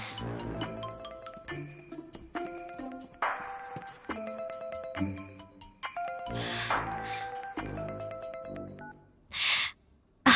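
A melodic electronic ringtone plays steadily, a looping pattern of bright chiming notes with a few noisy bursts mixed in, then a brief pause.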